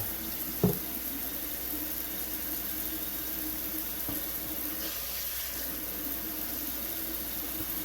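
A faucet runs steadily into a sink while a 3D printer bed is rinsed and washed with dish soap. A single sharp knock near the start breaks the close, continuous stream of water, with no talk.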